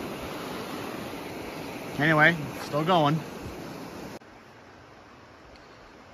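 Rushing creek water at a river crossing on Breccia Creek in Jasper National Park, a steady broadband roar that stays even throughout, with someone talking briefly over it before the sound drops to a quieter wash.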